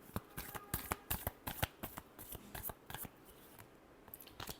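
Tarot cards are shuffled in a quick run of crisp, papery riffles and taps, close but quiet, with no speech over them.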